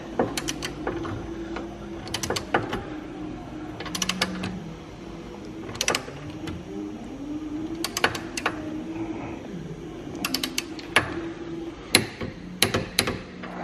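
A torque wrench tightening bolts during a Honda CRX build, with sharp clicks and ratcheting bursts repeating in clusters every couple of seconds, close and clear over a low garage hum with no talk.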